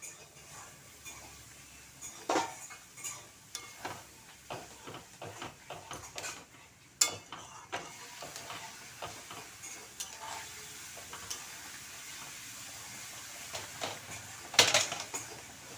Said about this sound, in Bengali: এবার সব কিছু ভালোভাবে মিশিয়ে নেব